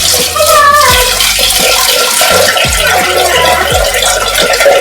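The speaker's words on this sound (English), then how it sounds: "Now we will wash this rice once." Rice is washed in water before pressure cooking for Andhra-style sweet pongal, giving a loud, steady splashing and swishing close up with repeated sloshes.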